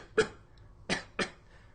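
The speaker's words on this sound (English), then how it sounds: "you know your child's not going to sleep with this annoying cough" A child's cough from illness, three separate harsh bursts with a pause after the first and the last two close together, heard fairly close in a quiet indoor room.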